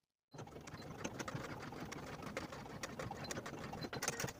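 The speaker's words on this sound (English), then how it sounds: "top stitch the tab in place 1/4 inch away from the top edge" A sewing machine runs steadily, top stitching a folded fabric tab on a dress sleeve, starting abruptly after a moment of silence and continuing as a fairly quiet, even, rapid mechanical patter.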